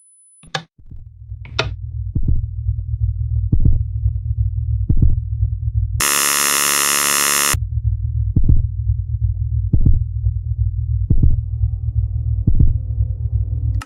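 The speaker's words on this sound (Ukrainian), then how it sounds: "замість статичного шуму на фоні починає лунати чиєсь серцебиття" A steady heartbeat thumps roughly once a second inside a Minecraft house, loud and close, with a low hum underneath and a brief burst of harsh glitchy static partway through.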